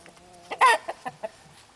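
Silkie chickens cluck in a short run of close, abrupt calls, one louder squawk among several brief clucks while a large white bird dominates an older gray one.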